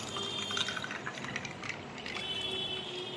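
Water poured into mango panna drink, a soft close trickling and dribbling splash that runs steadily for a few seconds, with faint background hum and no talk.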